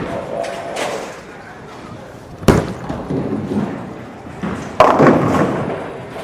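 A Hammer Black Widow 2.0 hybrid bowling ball, 14 lb, thrown down the lane: two sharp thuds of the ball landing followed by a rolling rumble, with voices and alley noise in the background.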